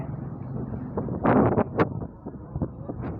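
Dry wind blows at an outdoor market in Charoen Si, Ubon, buffeting the microphone in a low rumble that swells into one short, loud gust before settling back.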